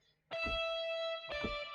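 A sustained guitar chord rings out with a lush, reverberant tail, then a second strum follows, its harmonics lingering and blending into a full, spacious wash.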